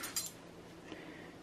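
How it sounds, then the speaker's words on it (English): A knife and fork are picked up, giving a couple of quick, faint metallic clinks of cutlery near the start before a quiet background. "Let me just grab my knife and my fork."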